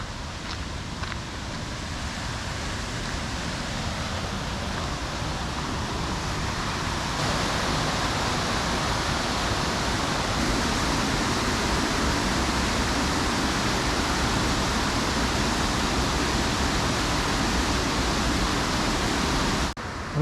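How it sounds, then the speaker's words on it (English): A pretty waterfall beside a forest walking track gives off a steady, broadband rushing roar, constant and fairly close, with no pauses and no voices over it. "we have an interesting little side jaunt to what's I think is a very, very pretty waterfall"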